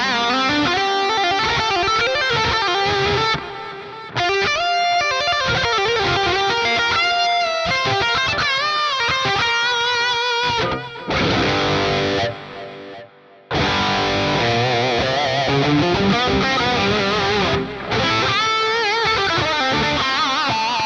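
An electric guitar lead tone run through the Plini Archetype plugin with reverb plays sustained melodic lines with a distorted edge. Brief gaps let the spacious reverb tail ring out.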